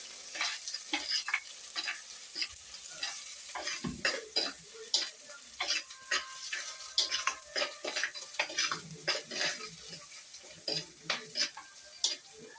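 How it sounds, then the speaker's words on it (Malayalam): Garlic, green chillies and curry leaves sauté in a pan with a quiet steady sizzle, broken by frequent light scrapes and taps of a spoon stirring them. "വെളുത്തുള്ളി, 2-3 പച്ചമുളക്, കരിവേപ്പില എല്ലാം കൂടി ഇട്ട് നല്ലതായിട്ടൊന്ന് വഴന്ന്"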